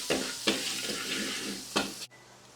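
Garlic sizzles in hot fat in a pan while being stirred, a steady frying hiss broken by several scraping stir strokes, close and continuous without speech.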